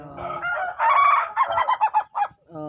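A rooster crows nearby, one long loud cock-a-doodle-doo with a stuttering, pulsing ending, followed by a brief clucking note.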